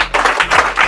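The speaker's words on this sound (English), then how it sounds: "Yes, clap." Audience clapping for speech competition winners at an inter-batch event, brisk loud hand claps in a short burst close by.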